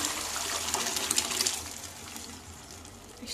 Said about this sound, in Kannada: ಇವಾಗ ಹಾಕೊಂಬಿಡೋಣ ಬೇಯಿಸ್ಕೊಂಡಿರೋ ಬೇಳೆ ನೀರನ್ನ.